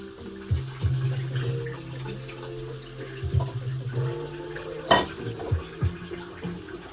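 Cooked instant Shaanxi cold noodles are drained of their water in a kitchen, with close running and splashing liquid, light clinks of a pot or strainer, and a sharp knock partway through.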